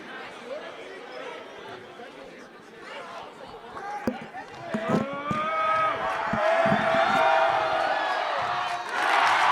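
Crowd at a high school boys' basketball game between Hudson Catholic and St. Peter's, a chattering gym crowd that swells into loud cheering and whistling by the end, with a commentator talking over it.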